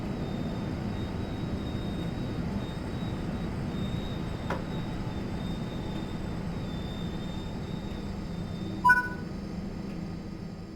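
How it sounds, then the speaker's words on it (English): Train Sim World 5 train braking to a stop: a steady low rumble of rolling wheels runs throughout, with a faint high whine and a brief squeal or hiss near the end. "Bring the train to a stop now by applying the train brake."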